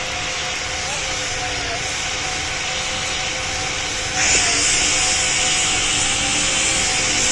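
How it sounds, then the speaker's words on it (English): Aircraft engine droning steadily in a flight video game, a loud continuous roar that swells and grows brighter as the throttle is pushed to full thrust partway through. "Throttle full thrust."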